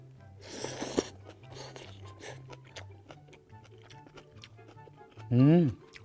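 Seasoned cockle salad is eaten with close, crunchy chewing: a steady series of crisp bites and clicks. A speaking voice runs underneath, and a louder vocal sound comes near the end.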